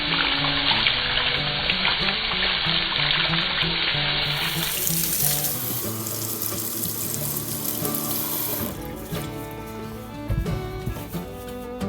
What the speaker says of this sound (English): let's get rinsing these off